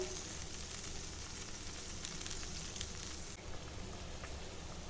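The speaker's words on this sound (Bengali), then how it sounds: "আর দেখো এখন ঝোলে জাল উঠে গেছে ঝোলটা ফুটছে" Fish curry broth seasoned with turmeric, chilli powder and salt bubbles steadily in a pot, giving a constant dense hiss and simmer with no talking.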